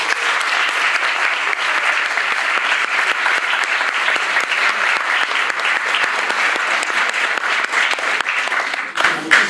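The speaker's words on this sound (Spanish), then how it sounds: "Un aplauso." Loud, sustained applause from a cinema audience welcoming a film director at a screening, many hands clapping densely and evenly for several seconds before breaking off at the end.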